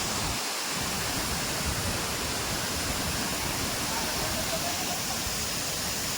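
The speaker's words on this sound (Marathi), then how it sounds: "झाड आहेत आणि झाडांच्या मध्ये बघू शकता हा धबधबा आहे आपला" The Ukshi Ranpat waterfall in Konkan pours during the monsoon, a loud, dense, unbroken roar of rushing water heard from nearby, filling the whole stretch evenly without pause.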